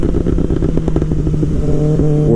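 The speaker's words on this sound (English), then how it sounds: "I'll let off the throttle and then just slightly breathe on it." Kawasaki 2024 motorcycle engine rolling off the throttle and then blipped lightly, a loud close exhaust drone broken by quick irregular crackles and pops at the tailpipe.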